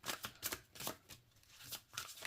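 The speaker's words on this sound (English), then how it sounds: "Overhand shuffle is nice." Glossy tarot cards riffle through an overhand shuffle, a series of soft, quick slapping bursts at close range, quiet and irregular.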